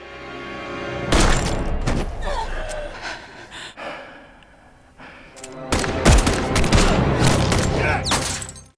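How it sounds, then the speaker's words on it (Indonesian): Gunfire in a film action scene erupts in rapid bursts of loud shots with booming impacts, a lull, then a second intense volley, mixed with gasps and music. "Park Geon pun terkena tembakan setelah Yuli mengira Park Geon akan menghabisinya"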